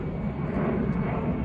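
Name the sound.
airplane flying overhead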